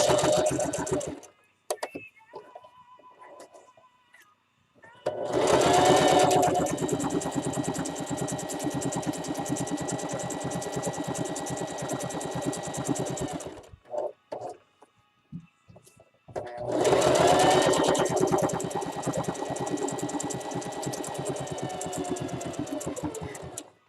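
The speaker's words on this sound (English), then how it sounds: "we're just going to sew it all together all the way around" A sewing machine runs in two long continuous bursts, stitching fabric all the way around an Easter basket, with a quiet pause between the bursts and small handling noises.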